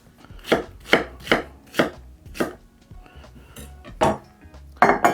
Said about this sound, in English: we just need to cut our onion